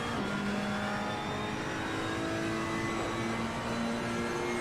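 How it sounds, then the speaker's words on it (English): An Assetto Corsa Competizione GT World Challenge race car engine revs hard, a loud sustained howl with rising and falling pitch, close by and with no one speaking. "Listen to that engine when it starts."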